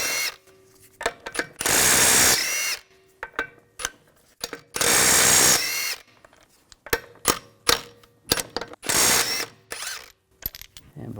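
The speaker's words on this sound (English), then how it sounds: "take the lug bolts out" An impact tool with a 17mm socket works the lug bolts off the front wheel of a 2006-2010 BMW 550i in several loud, short ratcheting bursts, separated by clicks and handling noises.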